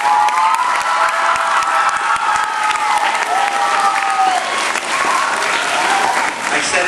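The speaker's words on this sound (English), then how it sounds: "one last final round of applause." Audience applause at a swearing-in ceremony, steady dense clapping that carries through the whole stretch, loud and close, with some voices mixed in.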